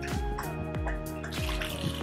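Aquarium water from a reef tank pours and splashes into a container in short uneven gurgles and drips, close by and fairly quiet, with no talk.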